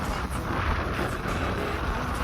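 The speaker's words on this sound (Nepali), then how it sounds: "बेसरी हावा लारहेछ नि त छोरो।" Strong wind roars as a steady, dense rush across the microphone, loud and continuous with slight gusting and no other sound standing out.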